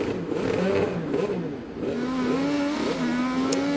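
An IndyCar race car idles in the pit lane, its engine droning with wavering, rising and falling pitch, loud and close, under a faint broadcast background.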